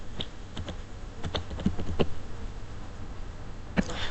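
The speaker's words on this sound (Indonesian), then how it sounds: "di sini kita bisa ketikkan perintah IP address" A computer keyboard tapped in quick, uneven keystrokes while an IP address command is entered, close and clear against a faint background hiss, no voices.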